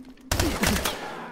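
Weapon fire from Call of Duty Advanced Warfare on Xbox One: a loud burst of shots hits abruptly after a brief quiet moment, then rings out and fades over the next second.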